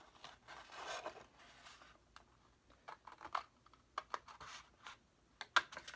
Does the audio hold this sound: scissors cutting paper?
yes